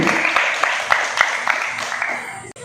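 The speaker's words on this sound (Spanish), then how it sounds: "Jóvenes, vamos a dar un fuerte aplauso y vamos a iniciar" Young people at an awareness event on education give a short burst of clapping, with sharp individual claps audible through the brief round.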